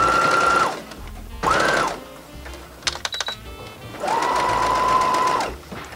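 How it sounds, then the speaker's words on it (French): A sewing machine stitches along the edge of an apron skirt, close to the hem, in three loud runs of steady whirring separated by pauses with a few small clicks and handling taps. "je vais venir piquer le plus près du bord possible pour maintenir tout ça en place"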